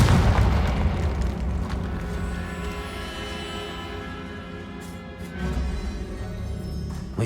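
A fiery spell explosion in the Hogwarts Legacy game sets off a heavy, sustained booming roar that rumbles loudly throughout and swells again near the end.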